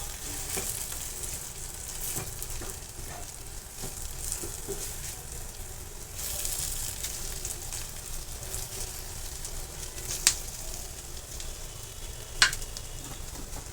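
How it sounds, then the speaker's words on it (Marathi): Homemade masala sautéing in hot oil for a dry broccoli sabzi, a steady soft sizzle and crackle with occasional stirring scrapes and two sharp clicks near the end, no talking. "तो देखील आपण तेलामध्ये व्यवस्थित परतून घेणार आहे"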